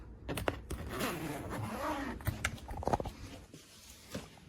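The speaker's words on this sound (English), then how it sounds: "Zippers work really well." The zippers on a Samsonite Freeform hardside carry-on spinner suitcase are pulled in a run of close, rasping zips and small clicks, with a few sharper ticks near the end.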